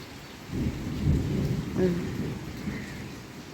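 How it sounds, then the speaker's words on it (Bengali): Rain falls steadily outdoors while a low, rolling thunder rumble swells early and fades, fairly close, with no voices. "এখন আস্তে আস্তে বৃষ্টি পড়তেছে।"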